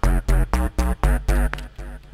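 A series of short, clipped synthesized notes in GarageBand, about eight in a row, each cut off quickly with brief gaps between, played loud and alone.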